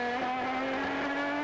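A 007 Aston Martin race car at Petit Le Mans runs wide onto the grass, its high engine note droning steadily and loud, with a faint scrubbing rasp underneath.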